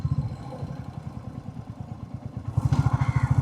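A motorcycle ride on a sunny afternoon past maize fields near the Teesta River, with a steady low engine thrum and rapid pulsing exhaust throughout that grows louder and rougher near the end as the bike revs.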